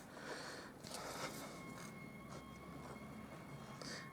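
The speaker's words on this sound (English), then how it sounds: "see that noise you're hearing, like an alarm? That's a crane." A moving construction crane's warning alarm sounds outside as steady high tonal beeps, faint and distant behind a rumbling, noisy background with light scraping.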